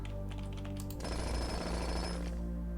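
Jackhammer digging for gems in the Blue Prince video game, a dense rapid hammering rattle that bursts in after a second and holds steady for nearly two seconds over a low game hum, then fades back.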